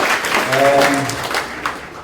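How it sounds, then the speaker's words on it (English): An audience at a founders conference gives a short, warm round of applause as a voice carries over the clapping. "Can we give him a warm round of applause, please?"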